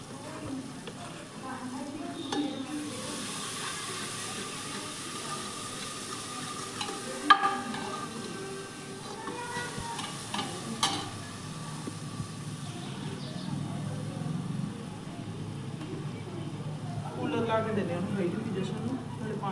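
Masala roasts in a pan while being stirred, giving a steady broad sizzle with occasional scrapes and clinks, and a person talks over much of it.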